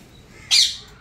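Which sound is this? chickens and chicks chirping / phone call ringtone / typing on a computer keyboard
chickens and chicks chirping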